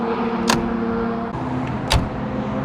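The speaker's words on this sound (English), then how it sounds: "Even the sound of the door closing." A classic Mercedes-Benz 220 Ponton is heard from nearby, with a steady low hum under two sharp, solid thumps about a second and a half apart, the second one louder, like a door shutting firmly.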